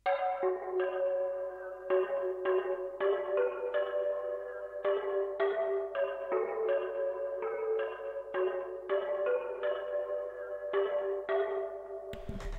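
A bell one-shot from a one-shot kit repeats in a steady pattern, with bright metallic strikes ringing with sustained tones for over twelve seconds, clear and alone with no voices.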